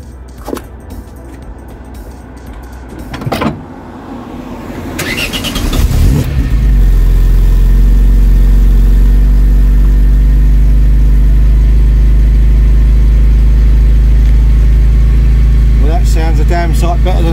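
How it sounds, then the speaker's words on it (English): A Vauxhall Cavalier Mk2 with a replacement back box starts up after some handling noises; the engine catches with a rising roar, then settles into a loud, steady, deep idle that fills the rest of the clip. "So let's start it up and see what it sounds like."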